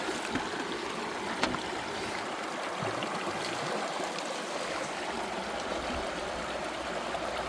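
Water rushes steadily through a gold sluice box in a stream, a continuous close wash with no pauses.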